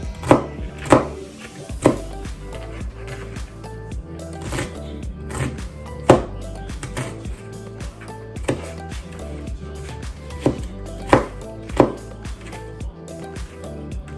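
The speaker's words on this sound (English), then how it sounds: "Then you chop the other direction." A knife chopping through avocados for guacamole, irregular sharp taps against a cutting board, some in quick pairs, close and crisp with no talking.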